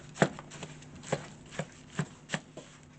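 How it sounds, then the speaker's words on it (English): A granola mixture is stirred in a bowl, giving a handful of soft, scattered scraping and clumping knocks at irregular intervals, close but quiet. "Now we're going to stir all that in."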